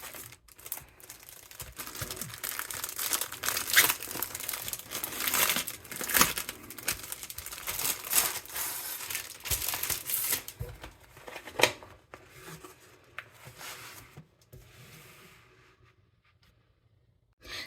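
Wrapping paper crinkles and tears as a floss organizer is unwrapped, a busy run of close rustling and crackling that thins out and fades toward the end.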